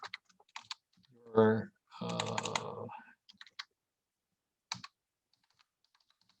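Short bursts of computer keyboard keystrokes tap out an email address, with quick clicks scattered around a brief spoken phrase, near and fairly quiet in an otherwise silent room.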